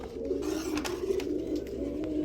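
Pigeons coo in repeated low, throaty calls at close range, overlapping in a steady rolling pattern with faint chirps in the background.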